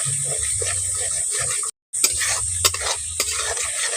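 Tomato sautéing with a little water in a pan while a spoon stirs it for an egg dish, a steady close sizzle with scraping strokes, broken by one brief moment of silence.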